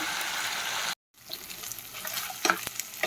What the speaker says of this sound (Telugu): ఇంకా బాగా ఫ్రై అయిపోవాలండి మటన్ ఫ్రై అయిపోయిందండి